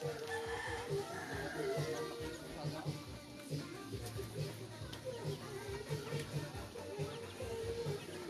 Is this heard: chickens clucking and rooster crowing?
yes